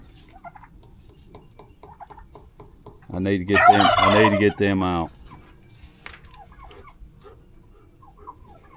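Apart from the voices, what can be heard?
hens clucking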